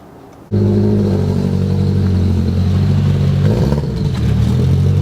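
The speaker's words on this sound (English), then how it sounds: "I'm gonna take it for a little test drive in the backyard" A single cab pickup truck's engine starts abruptly and then runs loud and steady close by in a backyard, with a slight rise in revs partway through and no talking.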